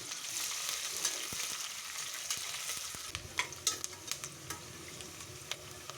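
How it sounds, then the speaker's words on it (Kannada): Slit green chillies and onion crackle softly as they fry in a pan with spices, a quiet steady sizzle broken later by a run of small pops and stirring clicks. "ಹಸಿಮೆಣಸಿನ್ಕಾಯಿನ ಉದ್ದಕ್ಕೆ ಕಟ್ ಮಾಡಿ ಹಾಕ್ಕೊಂಡಿದ್ದೀನಿ ಫ್ರೈ ಮಾಡ್ತಾಯಿದ್ದೀನಿ ಮತ್ತು ಒಂದು ಈರುಳ್ಳಿನ ಕೂಡ ಹಾಕ್ಕೊಂಡಿದ್ದೀನಿ ಎಲ್ಲನೂ ಚೆನ್ನಾಗಿ ಫ್ರೈ ಮಾಡ್ಕೊಳ್ಬೇಕು"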